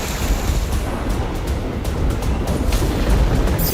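Tall sea waves crashing on the Karnataka coast during heavy monsoon rains, a loud continuous roar of surf with heavy wind rumble on the microphone, no talk.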